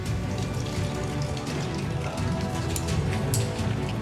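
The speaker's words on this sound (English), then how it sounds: "It's just raining now." Steady rain falls outside a tunnel entrance, a dense, continuous hiss of drops hitting surfaces, loud and even throughout with no talk.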